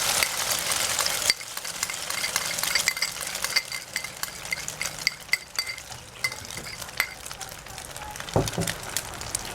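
Eggs hit hot oil in a pan for a sweet milky egg dish, a loud steady sizzle and frying hiss throughout, with a few clinks and stirring scrapes near the end.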